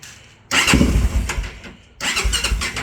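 A Honda 400EX sport quad's engine is cranked in two loud, close bursts separated by a brief pause, the starter churning roughly each time.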